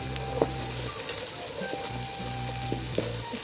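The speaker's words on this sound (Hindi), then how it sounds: "अब मैं इसमें डालूंगी कैरेट्स, और कैरेट्स को डाल के 1 मिनट के लिए स्टिर करूंगी" Carrots sizzle and crackle in a hot pan, with a few spatula scrapes and taps as they're stir-fried, close and steady.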